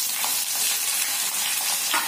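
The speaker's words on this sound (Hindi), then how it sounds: "अभी हल्का सा ब्राउन हो गया है तो मैं इसमें प्याज ऐड कर दूंगी।" Onion sizzles and fries steadily in hot oil for a country-style baingan (eggplant) chutney, a bright crackling hiss with light stirring scrapes, close and continuous with no talk.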